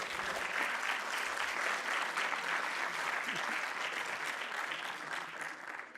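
An audience applauds students presenting projects, a dense, even wash of clapping that carries on steadily for several seconds and eases slightly at the end.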